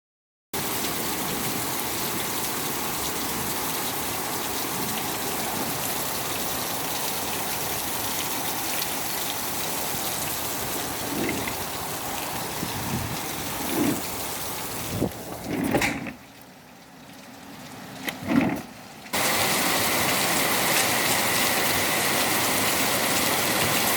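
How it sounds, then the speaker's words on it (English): Steady rain pours down on a rainy day in southern Nigeria, a dense continuous hiss that runs nearly throughout, briefly dropping away for a few seconds near the end before returning at full strength. "just getting drenched in the rain can just make your day sour."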